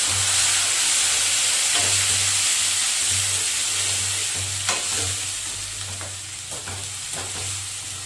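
Chopped onions sizzle and fry in hot oil in a pan for chole, a continuous close hiss with scraping stirs and occasional clinks, while a low hum pulses steadily beneath.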